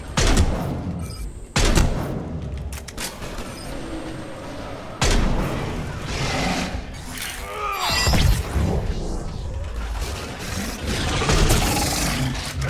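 Heavy gunfire rattles through a battle on Earth in Mass Effect 3, with sharp bursts and booming impacts breaking out repeatedly over a constant rumbling din.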